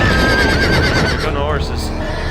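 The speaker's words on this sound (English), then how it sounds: "Here go the horses." Horses whinny loudly in the Game of Thrones Telltale video game, a long wavering neigh rising over a dense, noisy background of hooves and action sounds.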